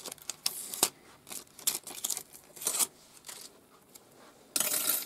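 Adhesive tape is peeled and pressed down onto a landscape card to hold a strip die in place, with crisp crackles, ripping bursts and small taps, loud and close, ending in a longer tearing rip.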